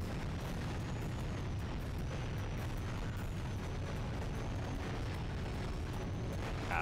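A missile explosion strikes the player character in Ratchet and Clank 3, heard as a dense, sustained rumbling blast that stays loud and steady throughout, with no talking over it.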